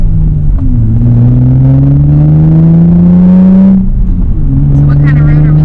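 Infiniti G35 with its muffler deleted, heard from inside the car with the windows up: a loud, steady exhaust drone that climbs in pitch under acceleration, dips briefly and then rises again.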